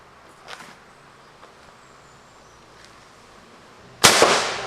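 A homemade pneumatic arrow shooter charged to 3,500 psi fires in a single sudden, loud blast near the end, with a short ringing tail. Quiet outdoor background comes before it, broken only by a few faint clicks.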